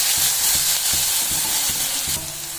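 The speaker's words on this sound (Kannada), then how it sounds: "ಎಣ್ಣೆಗೆ ಹಾಕೊಂಡು ಚೆನ್ನಾಗಿ ಹುರ್ಕೋಬೇಕು, ಹಸಿ ವಾಸನೆ ಎಲ್ಲ ಹೋಗೋವರೆಗೂ" Green chili paste fries in hot oil with a steady, bright sizzle, while a spoon stirs it in regular scraping strokes close by, all with no voices.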